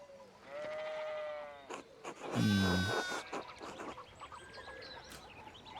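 Several sheep in the video game Pentiment bleat in turn, one long wavering call loud and close, others shorter and softer around it.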